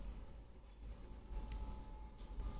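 A pen scratches across paper in a soft, continuous stream of small strokes, faint and close against a steady hiss and hum in the background.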